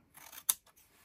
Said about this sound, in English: Now, I take my scissors and I'm going to cut